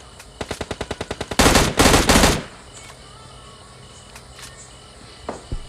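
M16 rifle fire in the video game PUBG Lite: about ten evenly spaced single shots in quick succession, then two loud, dense bursts of rapid gunfire, with quieter game ambience afterward.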